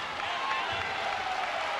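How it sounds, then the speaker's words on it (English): A hometown Connersville Spartans crowd at a 2005 high school boys basketball game against New Castle claps and cheers in a steady, even roar, with a commentator's voice faintly beneath. "Connersville crowd starting to show some enthusiasm for their hometown Spartans."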